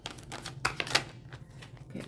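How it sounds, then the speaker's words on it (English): Oracle cards are shuffled by hand in a quiet, steady patter of soft papery flicks and taps, close but faint, with a few sharper slaps in the middle. "I don't know why I'm shuffling again."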